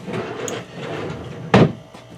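A kitchen or garden-shed drawer opens with one short, loud wooden scrape and knock, standing out from quiet room noise.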